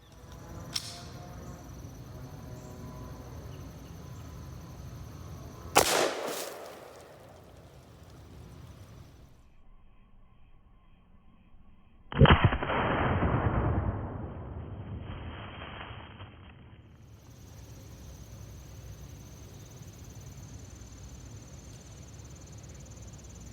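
A 20-inch AR rifle and a 10.5-inch AR pistol each fire a single sharp shot about six seconds apart, with each crack decaying into a rolling echo over faint outdoor background.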